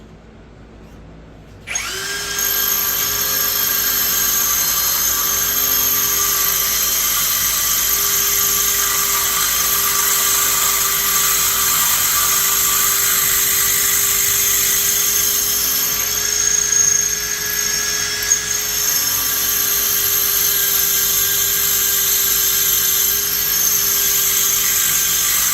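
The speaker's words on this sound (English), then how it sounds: "So we're going to drill some more." A power drill runs steadily on a Dodge Durango SRT during a mod install, a close, loud, high whine that starts abruptly and holds nearly unchanged for over twenty seconds with no talking.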